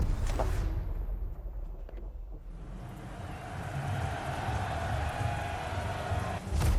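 Steady rain hiss from The Crew Motorfest racing game during a NASCAR event, broad and continuous, briefly thinning early on before building back to a full wash of falling rain with no talk.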